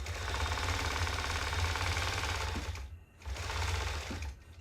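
A longarm quilting machine stitches in a fast, steady mechanical chatter, close and clear, broken by one brief pause before resuming, then slowing near the end.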